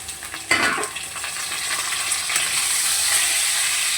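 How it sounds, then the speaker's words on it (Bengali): Potatoes and drumstick stalks are stir-fried in a pan, starting with a sharp clatter as the stalks go in, then a loud, even sizzle with stirring that continues without talk. "আলুর সাথে ডাঁটাগুলোই একটুখানি নেড়ে চেড়ে নেবো।"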